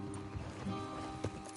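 Horse hooves clip-clopping on the ground in an open-world Western game, a few soft, close, uneven thuds over quiet ambience.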